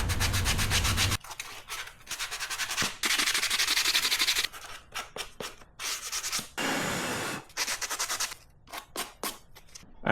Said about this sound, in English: I got it sanded down.